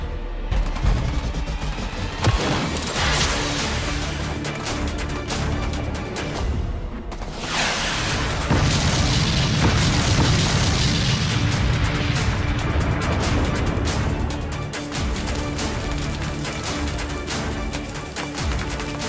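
Rocket launchers being blown up in a battle scene, a long barrage of heavy explosions and crackling bursts with booming low rumble, near and loud throughout, with a brief sharp cutoff partway.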